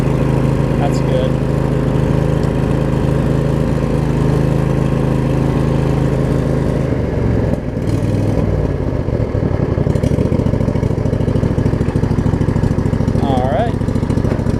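A Craftsman riding mower's Briggs & Stratton V-twin engine runs close and loud, holding a steady, even drone the whole time.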